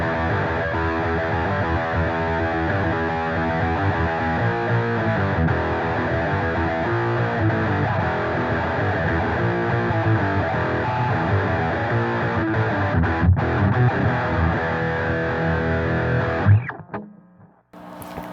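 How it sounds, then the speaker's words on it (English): A 1997 Ibanez S-Classic SC420 electric guitar on its humbucker pickup drives a Metal Zone distortion pedal, giving a loud, thick, saturated metal tone played continuously for about sixteen seconds before stopping abruptly, with a short trailing noise. "but I love that humbucker in the metal zone with the humbucker position all the way open."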